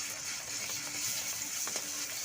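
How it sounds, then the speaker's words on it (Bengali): Garlic fries in hot oil in a kadai for Bengali kochu shak. The bubbling sizzle is even and nearby, broken by a couple of faint clicks, with no talking. "তেলটা গরম হয়ে গেছে, এবার রসুনটা দিয়ে দিচ্ছি।"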